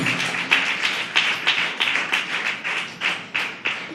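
A church congregation claps hands in a rhythmic series of sharp, evenly spaced claps, fairly close and moderately loud, with no voices over it.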